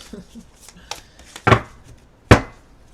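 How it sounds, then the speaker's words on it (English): Large, slippery tarot cards shuffled by hand during a card reading, giving a few sharp riffling slaps and clattering bursts with quiet gaps between them, close and fairly loud. "that's what it's like to shuffle these cards"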